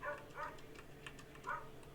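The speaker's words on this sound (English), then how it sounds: "I've got dogs outside barking." Dogs bark outside at a distance, three muffled yaps spaced across a couple of seconds over a low indoor background hum.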